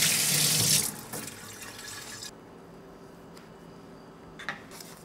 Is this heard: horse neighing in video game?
no